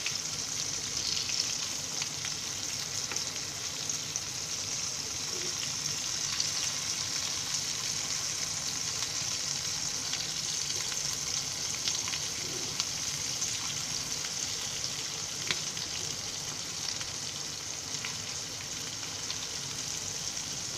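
Pieces of chicken coated in Konkani red chilli masala fry in oil and are turned in the pan, making a quiet, continuous, even sizzle with light hiss throughout and no speech.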